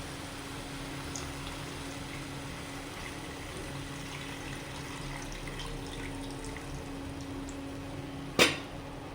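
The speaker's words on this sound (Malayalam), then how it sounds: "നമുക്കതിലേക്ക് പുളി പിഴിഞ്ഞ വെള്ളം ഒഴിച്ചു കൊടുക്കാം" Tamarind water pouring steadily into a pot of sardine curry, a soft continuous watery rush at moderate level, ending with a single sharp click.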